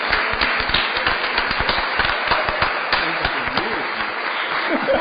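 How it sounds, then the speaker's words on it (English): Applause at a Board of Aldermen meeting for an alderman, steady hand clapping from a crowd of moderate size, with sharp individual claps in the foreground and faint voices mixed in. "Let's give the Alderman one more round of applause"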